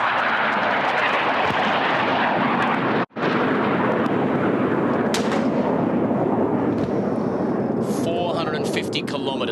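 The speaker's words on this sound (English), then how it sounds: "These jets have flown from the RAAF base at Williamstown" Military jets from an air force base roar low over a lake during a national flag-raising and citizenship ceremony, a loud sustained wash of engine noise that fills the whole stretch with a brief break.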